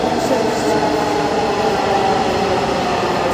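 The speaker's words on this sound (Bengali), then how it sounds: "ও আমাদের মেট্রো চলে এসছে" A metro train pulls into a station with a loud continuous rumble and rolling clatter of wheels on rails, close and steady throughout.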